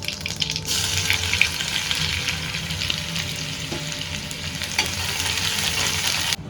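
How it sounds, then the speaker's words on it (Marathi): Mustard seeds and cumin crackle and hiss in two spoons of hot oil for a Maharashtrian dudh amti, a loud, dense sizzle that starts abruptly and holds steady, with faint pops and no voices. "2 चमचे तेल टाकणार आहे, अर्धा चमचा मोहरी, अर्धा चमचा जिरं टाकलंय"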